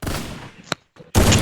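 Gunfire in the battle royale video game Free Fire MAX, a sharp close shot cracking out amid loud bursts of game noise, with a brief silent gap between.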